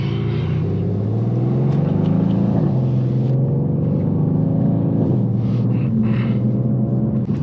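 A 604bhp Mercedes C63S AMG rumbles from inside the cabin on country roads, a loud, steady low engine drone with shifting pitch as revs rise and fall.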